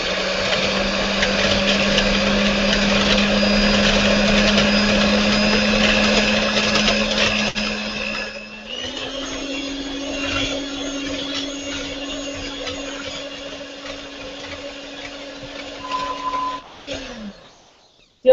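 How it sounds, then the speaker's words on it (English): An electric mixer whirs steadily while beating separated egg whites until foamy, a loud continuous motor hum that drops in pitch partway through, then winds down and stops near the end. "I've got some egg whites here that I separated from the yolks, and we are going to beat that until we got just foamy"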